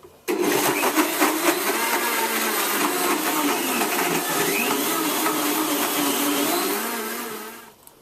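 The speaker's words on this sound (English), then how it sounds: "Now blend this on medium for 30 seconds" Blender running on medium speed, mixing a smoothie of mango and plain yogurt: a loud, steady motor whir that starts abruptly and runs for about seven seconds before winding down.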